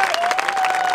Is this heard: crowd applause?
yes